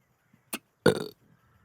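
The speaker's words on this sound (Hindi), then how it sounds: "डकार आ गई वो" One close burp, preceded by a brief short vocal click, then a longer rumbling belch that fades out, heard alone in quiet.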